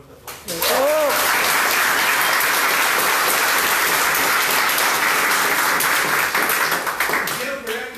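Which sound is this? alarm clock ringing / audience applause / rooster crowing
audience applause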